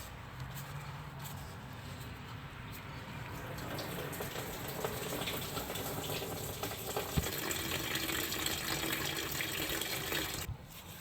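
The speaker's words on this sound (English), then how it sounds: "we got a drain in there, and we'll go open this cap up here too. This will help get it draining a little better" Coolant pouring from the drain of a 2013-2016 Dodge Dart 1.4L turbo with the cap opened, a steady faint trickling gush into a catch pan that grows slightly stronger before stopping abruptly near the end.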